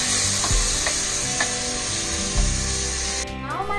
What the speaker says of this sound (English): I'm going to go ahead and add in the tomatoes and let it cook for about 10 more minutes